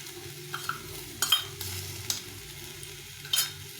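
A paste of ground ginger, cumin and red chilli fries in a pan with a soft, steady sizzle, broken by several sharp clinks and scrapes from a stirring utensil.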